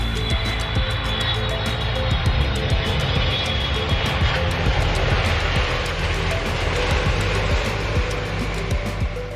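Airplane cabin on a flight from Frankfurt landing in Bulgaria, a loud, steady roar of jet engines and air rush filling the whole stretch, with faint rattles and no talking.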